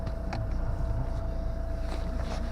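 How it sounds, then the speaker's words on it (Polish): A Ford Mondeo Titanium's diesel engine idles steadily and evenly up close, a low rumbling chug with a faint whine running through it. "Silnik pracuje ładnie, równo."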